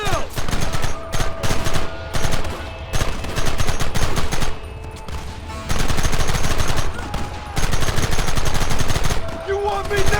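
Gunfire in the Red Dead Redemption video game: loud, close bursts of rapid shots and volleys come in clusters with brief pauses between them.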